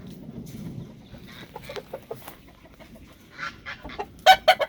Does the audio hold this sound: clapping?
no